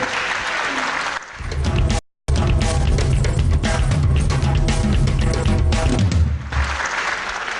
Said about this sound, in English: a real bit of applause for some excellent move there by both men